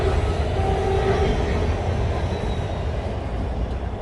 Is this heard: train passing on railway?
yes